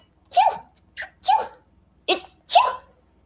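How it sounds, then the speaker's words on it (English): A person sneezes four times in close succession, each sneeze sharp and near, with a brief quiet gap between them. "I need to sneeze there, sorry lads."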